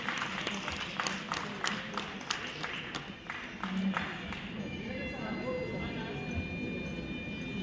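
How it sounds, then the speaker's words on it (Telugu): An audience claps to welcome students at a school event, a burst of scattered applause in the first few seconds that thins out, with a voice speaking over the hall afterward. "చప్పట్ల ద్వారా విద్యార్థులకు మనం స్వాగతం పలుకుతాం."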